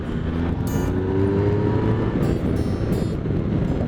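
A Triumph Tiger 1050 Sport motorcycle pulls hard in third gear, its engine droning loud and close with a rising pitch under steady wind rush, recorded from the rider's position.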